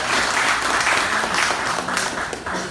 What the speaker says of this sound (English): Give a hand of applause for yourself.